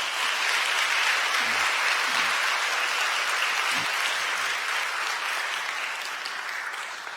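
A church congregation at a Sunday service applauds in welcome, a dense, sustained round of clapping that fills the room at steady loudness and tapers slightly toward the end.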